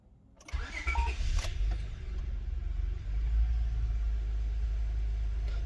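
A 2002–2007 Honda Accord with a 3.0 V6 cranks briefly and catches, then settles into a steady, low idle rumble that continues to the end.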